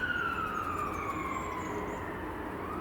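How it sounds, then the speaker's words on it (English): An ambulance siren wails continuously as it heads toward Salford Royal hospital, its pitch gliding steadily downward as it passes, loud and sustained over road noise. "Ambulance."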